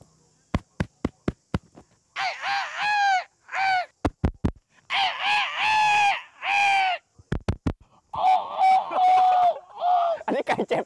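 A man vocally imitates a bantam chicken's crow at a live show, giving several loud, drawn-out crowing calls between sharp clicks and claps.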